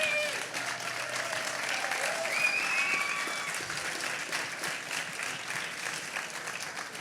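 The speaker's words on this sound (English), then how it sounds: "Yeah, you can clap." Conference crowd applauding at a blockchain tech keynote on a center stage, steady moderate clapping sustained throughout with faint background voices.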